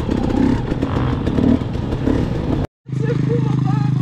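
An enduro motorcycle rides hard over a rough special stage, its engine droning and rattling steadily, cutting out briefly and then returning at a steadier pitch; speech is likely mixed in.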